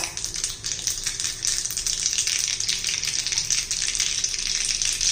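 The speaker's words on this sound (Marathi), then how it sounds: "तडका देण्यासाठी तेल गरम करायला ठेवलेलं आहे त्यात मोहरी घातली अर्धा चमचा जिरं घातलाय" Mustard and cumin seeds sizzle steadily in hot oil for a tadka, a close, continuous crackling fry without talk.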